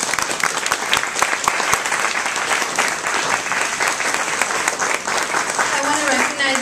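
Sustained, loud applause from an audience at a teen bullying event, closing a panel, dense and even with a voice briefly rising near the end.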